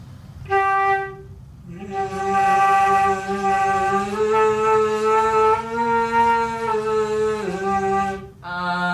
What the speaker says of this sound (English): singing and playing sounds like this.